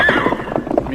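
A horse neighs loudly, up close, with a high whinny that breaks into rough, shaking snorts, alongside shuffling hoof sounds, in an old western radio drama scene.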